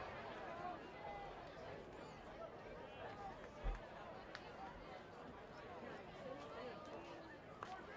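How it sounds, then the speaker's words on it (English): Crowd noise from the bleachers at a high school football game, a steady, fairly faint murmur of many voices with scattered chatter and a brief thump, heard from a microphone aimed down into the stands. "If you're hearing a lot of crowd action, our microphone is pointing right down into the bleachers"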